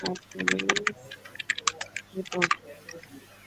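Typing on a computer keyboard, with quick bursts of close, crisp key clicks in uneven runs, heard during a work meeting.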